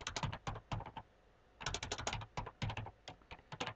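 Keys clatter on a computer keyboard in quick, quiet bursts of typing, with a short pause near the middle before a second rapid run of keystrokes.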